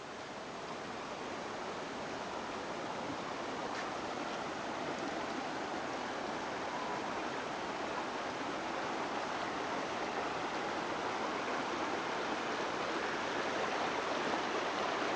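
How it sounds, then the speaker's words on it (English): A creek flows steadily in Garawarra State Conservation Area near Helensburgh, a continuous broadband rush of moving water that stays close and fairly loud throughout, with no voices. "I'm going to try to walk down the creek here."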